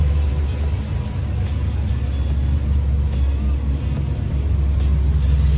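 A 1,000-horsepower Chevrolet Corvette C6 ZR1 gives off a low, steady engine rumble, heard close and continuous with no clear revving or changes in pitch.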